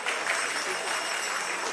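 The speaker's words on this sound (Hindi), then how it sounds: "तालियां बजाते रहो" An audience at an ISKCON initiation ceremony in Vrindavan claps continuously, a thick, even patter of many hands with voices mixed in underneath.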